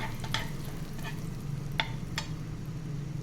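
Mushrooms sautéing in a pan for a mushroom masala give off a quiet, steady sizzle, with a few soft spoon-stirring clicks near the start and middle.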